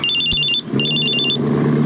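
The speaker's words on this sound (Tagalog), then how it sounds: "Cellphone ko." A cellphone rings loudly and close, repeated bursts of a bright electronic ring tone with a brief gap between phrases, no talking over it.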